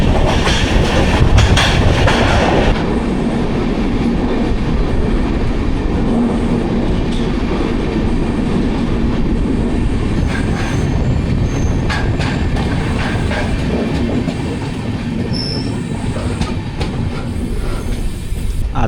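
Ernakulam SF Express rolls through the Konkan Railway's Karbude tunnel, a loud continuous roar of wheels on rails with rhythmic clatter and occasional metallic squeals throughout.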